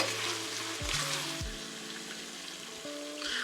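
Cajun tortellini soup ingredients being stirred in a pot over a steady background sizzle, with a few low scraping and knocking sounds near the start. A tonal hum also runs underneath.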